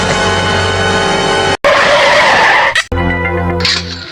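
A motorcycle engine roars close by, loud and continuous, with a brief cut midway and a harsh, rising revving burst before it settles back into a steady drone.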